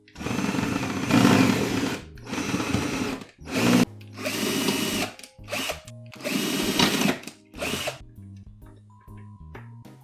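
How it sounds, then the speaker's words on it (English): A power drill driving screws into a bookshelf, whirring in several loud bursts of a second or two each, separated by short pauses and clicks, ending in quieter tones. "Wait, I could be using the drill for this part."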